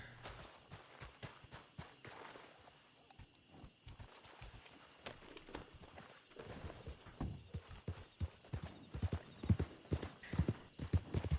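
Horse hooves clip-clop at a walking pace in Red Dead Redemption 2, growing louder and quicker toward the end, with faint ambient noise underneath.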